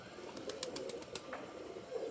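An old yellow-eyed Giribaz pigeon, about five years old, gives soft low coos close by, quiet and steady with a few light clicks over them.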